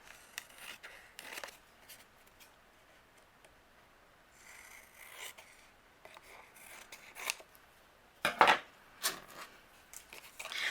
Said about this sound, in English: I'm just going to use my scissors to trim away the excess here